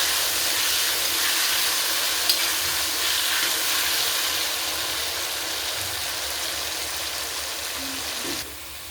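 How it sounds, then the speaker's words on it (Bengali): Potatoes frying in a pan with salt and turmeric, browning as they cook; a steady, loud, close sizzle and hiss runs throughout, easing slightly just before the end. "লবণ হলুদ দিয়ে ভেজে নেব।"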